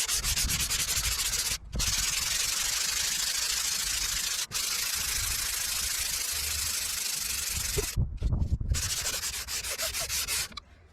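Steady, continuous abrasive rubbing of sandpaper on the painted panel of a BMW E90 car, close up, with a couple of brief pauses and some clunks near the end.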